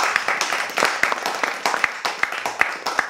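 Scattered audience clapping at a Turkish weight-loss training seminar, a few sharp individual claps sounding at an uneven rhythm rather than a full sustained ovation.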